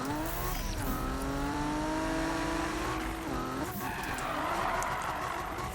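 A car slides with sustained tyre squeal in a racing video game set around a Toyota Supra MK4 build, the squeal holding steady pitched streaks over a continuous engine drone, loud and close throughout.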